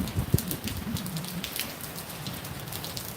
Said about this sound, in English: let me walk into the rain here